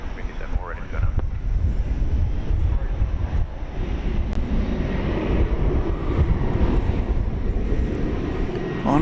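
A jet airliner rolls for takeoff from a runway at DFW airport at night, its engines roaring steadily and loudly, mixed with heavy wind buffeting on the microphone throughout.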